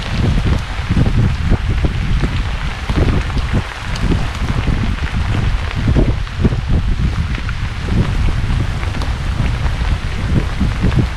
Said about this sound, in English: As you can see, it's raining a bit.